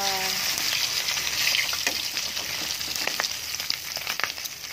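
Bilong-bilong fish fries in a pan of hot oil, a loud, steady, dense sizzle with scattered crackles and pops running throughout.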